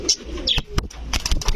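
A military cross hen pigeon held in hand gives soft coos and chirps, close and fairly loud, with brief rustles and wing flutters mixed in.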